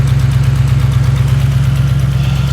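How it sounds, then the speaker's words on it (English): A 2007 Ford Mustang GT V8 with long tube headers, an H-pipe and Flowmaster exhaust idles steadily close by, giving a deep, even rumble with a light injector ticking over it and no talk. "The fuel injectors are a little clickety-clackety on all of these cars,"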